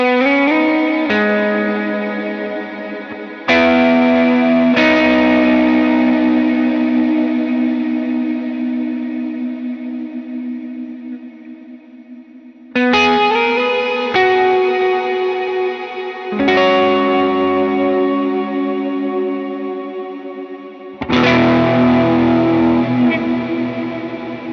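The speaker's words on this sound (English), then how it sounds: "And that part with all the effects will sound like this." Electric guitar riff drenched in effects: distorted, chorus-laden chords ring out in several sustained strums with echoing, reverberant tails, no voices.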